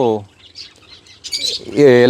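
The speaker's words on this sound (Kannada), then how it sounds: "ಸ್ಮಾಲ್ ಫಿಂಚಸ್ ಇದೆ, ಅದಾದಮೇಲೆ ಕಾಕ್ಟೈಲ್ ಇದೆ, ಲವ್ ಬರ್ಡ್ಸ್ ಇದೆ, ಬಡ್ಜೀಸ್ ಆ್ಯಂಡ್ ಕಾನ್ಯೂರು." Bright chirps and tweets from finches, cockatiels, lovebirds and budgies come in short bursts between close, loud bits of speech.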